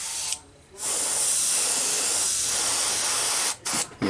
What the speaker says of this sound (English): I'm just thinning this white down a little bit. See if I can get it to spray a little better.